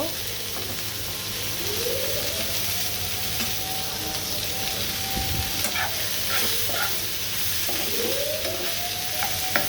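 Shrimp sautéing in a pan on the stove, a steady broadband sizzle and frying hiss running throughout, with a few stirring scrapes over a faint background hum.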